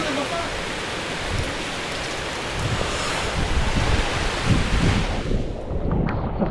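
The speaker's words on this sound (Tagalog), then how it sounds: "Oo nga yun, lakas ng agos eh." Strong floodwater current rushes in a broad continuous roar, mixed with rain and wind buffeting the microphone, loud and close throughout, with voices briefly heard beneath.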